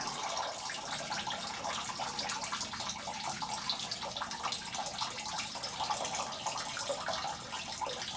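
Steady water draining off a boat deck splashes and trickles continuously, a soft, constant wash of liquid with no voices.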